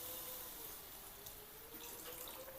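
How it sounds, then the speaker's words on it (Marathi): Water poured into a cooking peanut curry, a continuous faint rushing stream with a light splashing hiss, steady throughout. "आमटी बनवण्यासाठी पाणी टाकायचं।"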